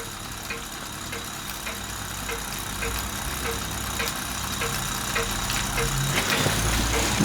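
A Lutz Hielscher miniature model steam engine runs steadily with a fast, even chuffing beat and a faint metallic tick, close by and continuous, with no talk over it.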